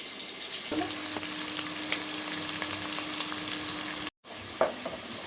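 Sliced onions frying in hot white oil in a kadai for beresta, a steady dense sizzle running throughout with a faint tonal hum and a brief dropout near the end, no voices.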